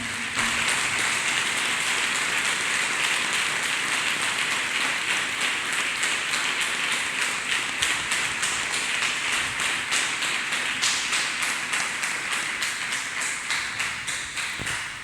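A church congregation claps hands together at a prophecy service, a dense, steady patter of many palms that runs without a break and stays loud and even throughout.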